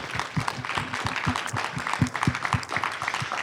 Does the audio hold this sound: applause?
yes